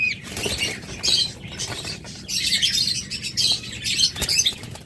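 Lively lovebirds scurry and flutter in a cage, with wings flapping, feet pattering and shrill chirps in busy, uneven bursts, all close and fairly loud.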